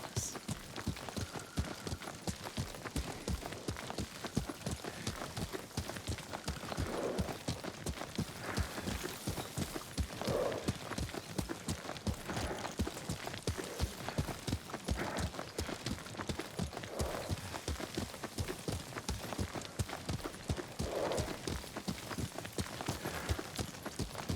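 Continuous rhythmic hoofbeats of a galloping horse under a rider in the samurai video game Ghost of Tsushima, a fast even clip-clop throughout, moderately close with a faint background hum.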